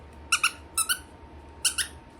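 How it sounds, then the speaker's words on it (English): A small felt pet chew toy squeaks in three quick pairs of high-pitched squeaks, close and clear against quiet room noise. "Yes, but a higher pitch squeak this time."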